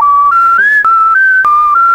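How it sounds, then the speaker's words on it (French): A person whistles a short, loud sequence of steady, clear notes that step up and down in pitch, with faint clicks between some notes and no talking. "Et c'est pas un sifflement pour faire de la musique."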